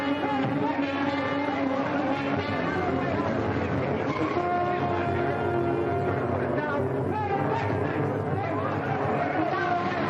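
A runaway headquarters car in a WWII film, its engine droning steadily and fairly loud throughout, with a busy mix of other noise and voices layered on top.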